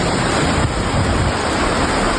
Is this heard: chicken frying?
no